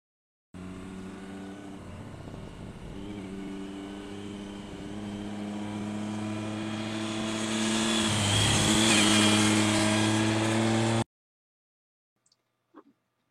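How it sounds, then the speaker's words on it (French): Triumph Street Triple RX motorcycle with an Arrow silencer running for about ten seconds, its steady engine note building louder toward the end before cutting off abruptly, followed by a couple of faint knocks. "Un silencieux Arrow qui vous délivre un son tout à fait envoûtant"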